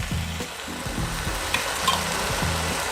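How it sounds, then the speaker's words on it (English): Marinara sauce from a whole jar of Trader Joe's sauce sizzles loudly in a hot pan with wilted greens, a steady close frying hiss broken by repeated low scraping thumps of stirring. "Oh yeah, that's a really good sizzle."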